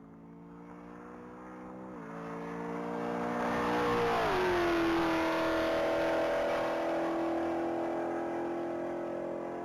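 A silver 2021 Camaro LT1 accelerating on a top-speed mile run, its engine note climbing through a gear change and swelling as it roars past, then holding a steady high drone as it pulls away.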